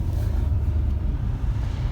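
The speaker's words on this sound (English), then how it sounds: "Oh, see a car." A car rolls past on a highway, a steady close low rumble of engine and tire noise that holds fairly constant for under two seconds, with no voices.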